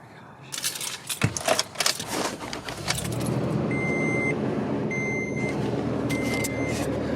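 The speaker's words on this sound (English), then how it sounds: "So I got Dad's truck." Pickup truck engine starting up and idling after a jangle of keys, a steady low rumble with repeated chime beeps, close by and no talking.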